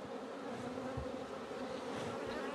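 A dense swarm of honeybees hums steadily around an open beehive in Corsica, a close, loud, unbroken buzz with no voices.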